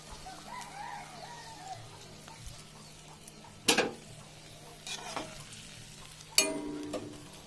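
An egg cooks in a pan with a little water, giving a soft, low sizzle. Sharper clinks and scrapes from a utensil come near the middle and end.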